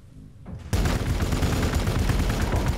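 Units in the video game Warhammer 40000: Gladius open fire: after a quiet half second, a sudden, loud, dense burst of rapid gunfire erupts and rolls on continuously to the end.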